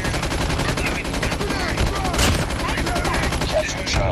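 Rapid automatic gunfire in a multiplayer shooter video game, a dense continuous rattle of shots at steady loud level throughout, with a voice talking over it.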